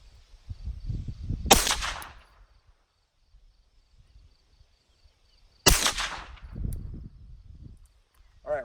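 Two sharp suppressed pistol gunshots fired several seconds apart outdoors, each a sudden loud crack followed by a short rumbling decay, with a silent gap between and low murmuring around them.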